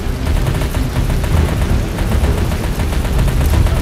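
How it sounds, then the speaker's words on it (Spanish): Gunfire rattles without pause in a zombie shooter set in Afghanistan, a dense, loud and continuous barrage of rapid shots. "Estamos disparando a Harad, pero no conseguimos causarle ningún daño."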